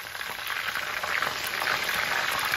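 A breaded Wiener schnitzel sizzles steadily in hot fat in a pan, a dense, even crackle of frying that holds without pause at close range.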